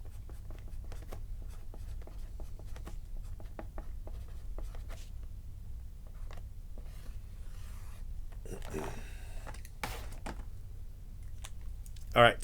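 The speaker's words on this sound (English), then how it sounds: "I'm going to write this on here" A pen writes by hand on a trading card, making faint scratchy strokes and small taps, with a brief louder rubbing burst partway through and quiet background noise.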